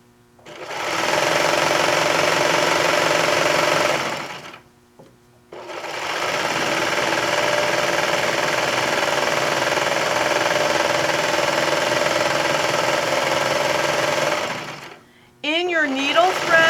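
A serger overlocks the edge of a fabric blanket, running loud and close in two long continuous whirring bursts separated by a short pause, then briefly starting again at the end.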